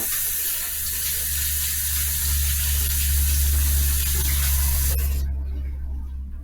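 Steady hiss and splash of liquid being drained from cooked chicken for orange glazed chicken, loud and close, continuing for about five seconds before cutting off abruptly.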